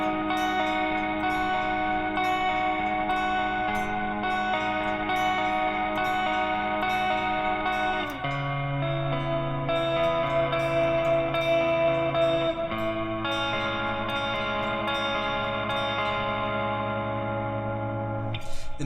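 Clean electric guitar arpeggios from a song, ringing chord tones with effects-heavy shimmer, echo and chorus, changing chords partway through and played alone with no voices.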